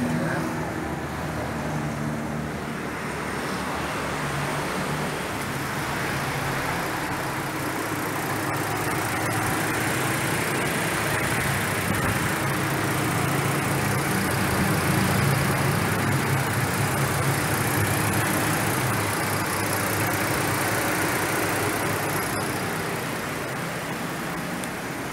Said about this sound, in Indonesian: Oke, Pak Tobing, tolong di start, sudah selesai